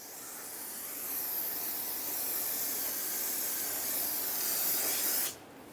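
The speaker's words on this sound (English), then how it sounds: "take brake parts cleaner, spray it down inside and out" A steady hissing spray from an aerosol can of brake parts cleaner runs continuously for about five seconds, fairly close, then cuts off abruptly, cleaning a Ford E-350 Super Duty rear brake rotor.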